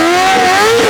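Honda CBR1000RR-R Fireblade SP motorcycle engine revving upward, a loud, close, rising whine that climbs steadily in pitch through the full second with no talking.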